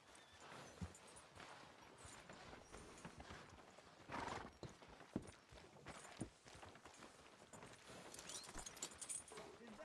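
A horse in a Western open-world video game clip-clops along at a steady walk, its hooves falling in an even rhythm, with a whinny rising partway through over a faint outdoor ambience.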